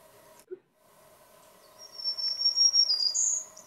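After a soft thump and a quiet pause, a black-throated green warbler delivers its high, buzzy zee-zee-zoo-zee song, rising at the end, heard clearly over a faint background hum.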